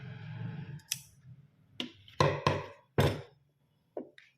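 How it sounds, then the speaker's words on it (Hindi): Scissors snip crochet thread on a handmade crochet garment, giving several sharp, close clicks and snaps in an uneven sequence with quiet gaps between them. "अब इसको हम कट कर देंगे।"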